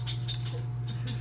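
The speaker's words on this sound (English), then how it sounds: "that's my dog," Dog whimpering indoors, a few soft high whines and yips over a constant low hum, fairly close and brief.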